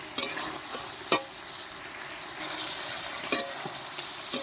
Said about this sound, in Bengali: এর ভিতরে দিয়ে দেবো আমি ফুলকপিগুলোকে আর আলুগুলোকে ভালো করে কষিয়ে নেব সবগুলো দিয়ে